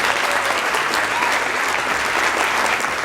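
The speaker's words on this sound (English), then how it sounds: "A big round of applause." An audience at a London seminar gives a big round of applause, steady dense clapping filling the room at a constant loud level throughout.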